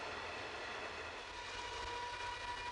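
Heavy-haul iron ore train in the Pilbara rolling past as a steady, broad rumble with a constant roar and a faint sustained tone, holding an even, loud level without breaks.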